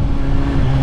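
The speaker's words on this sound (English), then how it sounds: "baka marinig nyo mas mahina yung exhaust natin ngayon." Motorcycle exhaust fitted with a dB killer, giving a steady, fairly loud engine drone with a low idle-like hum throughout and no talk.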